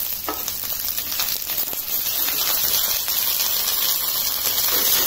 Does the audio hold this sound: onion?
yes